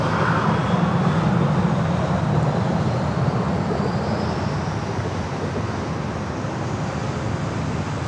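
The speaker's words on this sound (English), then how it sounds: "All right, Southwest flight already cleared for takeoff. We'll feel it." Southwest Airlines jet taking off at San Diego airport, a steady broad engine roar with a rising high whine, loud and continuous throughout without any talk.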